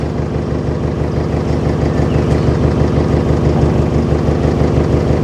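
Canal narrowboat engine ticking over at low revs while entering a lock on the Stratford Canal, a steady close rhythmic diesel thump continuing evenly throughout.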